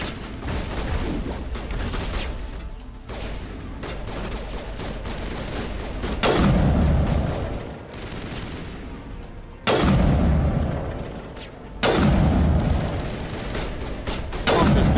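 Sniper rifle shots ring out in Mass Effect Legendary Edition, with three heavy, booming reports spaced a few seconds apart. Each rolls into a long decaying tail over continuous combat noise and clattering mechanical sounds.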